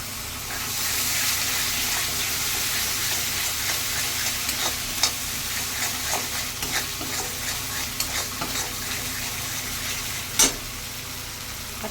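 Masala with curd and cashew paste cooking for a prawn malai curry gives off a loud, steady sizzle and hiss up close, with scattered spatula scrapes and one sharp clank near the end, and no voices.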